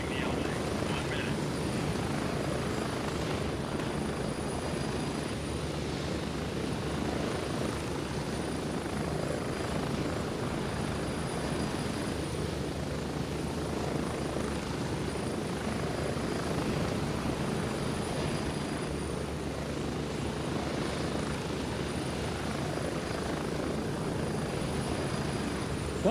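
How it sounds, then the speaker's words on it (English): A helicopter in the Gray Zone Warfare video game roars steadily with a loud, continuous rotor and engine drone heard from inside the cabin, while voices talk over it. "Quite loud when you're in the chopper."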